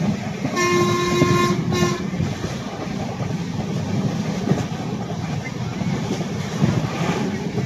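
The Pragati Express passenger train rumbles steadily along the tracks between Mumbai and Pune in monsoon, with a long, loud horn blast near the start sounding over the continuous rolling noise.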